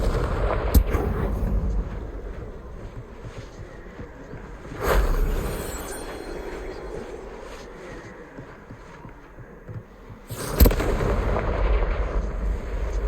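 Fire-spell blasts from Hogwarts Legacy boom over a rumbling game soundscape, with three sharp explosive bursts spread across it, loud and close, without any talk.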